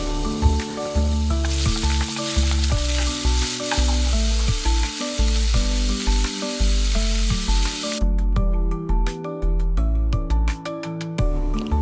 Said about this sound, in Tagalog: pwede na tayong maggisa. So, isasalang na natin, lagyan ng mantika, tapos uunahin yung luya,